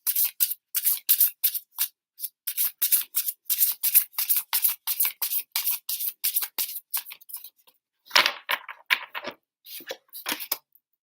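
A deck of tarot-style cards is shuffled by hand in a long run of quick, crisp riffling bursts, close and steady, with a brief pause and a few final shuffles, no talking.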